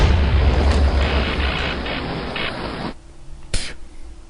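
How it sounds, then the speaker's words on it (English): A machine explodes in the Minecraft GregTech mod after a medium voltage battery is placed in a low voltage machine: a loud sustained rushing blast that cuts off abruptly, followed by a brief sharp crack and quieter tail. "I placed a medium voltage battery into a low voltage battery machine, so it's gonna explode."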